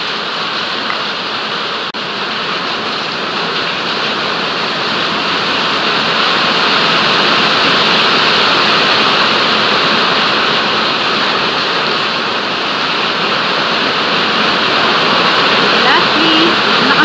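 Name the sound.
heavy rain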